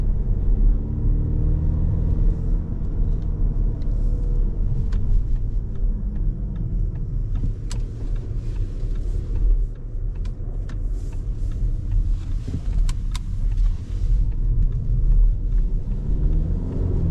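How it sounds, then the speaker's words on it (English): An Audi A5 Avant TDI mild-hybrid diesel with quattro, driven at night, rumbles low and steady from inside the cabin as its engine runs under way, with a few faint clicks over the drone. "And now, of course, engine kicks in."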